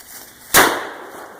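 A shotgun loaded with a whammy shell goes off outdoors in a single sharp blast that trails into a hissing, fizzing decay, over a steady background of insects or birdsong.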